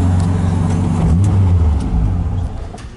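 A vehicle drives along a wet track with a loud, close, steady engine drone and low rumble that eases off slightly near the end.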